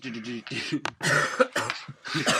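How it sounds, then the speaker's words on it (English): A cough breaks in among close, lively speech, a short harsh burst mixed with talking voices. "You got the cough in there."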